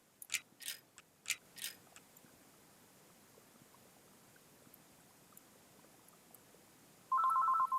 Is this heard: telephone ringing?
yes